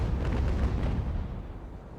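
Naval cannon broadside in the age-of-sail battle game Ultimate Admiral, with carronades and heavy guns firing as a rolling cluster of deep booms that fades toward the end, loud and alone.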